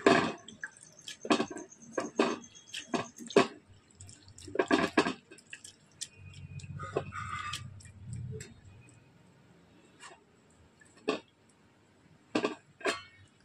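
Flattened rice (chira) being washed in water, with close wet splashes, drips and squishing in irregular bursts, plus a quieter stretch of sloshing in between.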